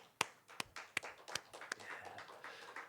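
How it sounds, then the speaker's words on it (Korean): Scattered clapping from a church congregation after a worship service, a handful of sharp separate claps spaced out at first, then softer irregular patter, faint and thin overall. "하나님께 감사와 영광의 박수를 올려드리겠습니다."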